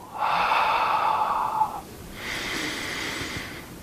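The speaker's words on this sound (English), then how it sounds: "Exhale." Two long, steady breaths during a seated yoga session, each a soft airy rush lasting over a second, heard close and alone, the second slightly quieter than the first.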